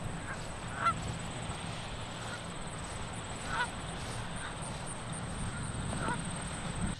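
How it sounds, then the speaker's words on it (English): Geese honk by a pond, scattered calls rising a few times over a steady outdoor hiss and low rumble. They sound fairly distant and faint, with no speech. "The geese are just hanging out, man."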